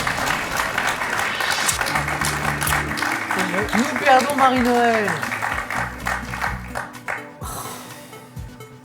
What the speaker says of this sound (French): 3 victoires, on peut l'applaudir Marie-Noël.